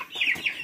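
Chickens clucking at close range in a farmyard, with a few short, sharp clucks in quick succession and no talk over them.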